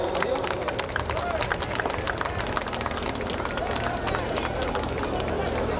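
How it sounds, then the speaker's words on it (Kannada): An audience applauds at a lamp-lighting inauguration of a seer's Amrit Mahotsav celebration, a dense stream of many hands clapping at moderate volume with murmuring crowd voices mixed in. "ನಿಮ್ಮೆಲ್ಲರ ಒಂದು ಜೋರಾದ ಚಪ್ಪಾಳೆ"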